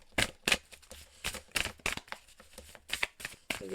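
Tarot cards being shuffled by hand up close, a series of soft papery riffles and slaps in irregular bursts with quiet gaps between.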